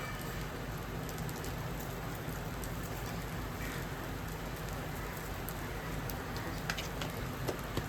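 Pulao ingredients frying in a pan, a steady broadband sizzle and crackle that runs evenly and moderately loud from start to finish with no talk.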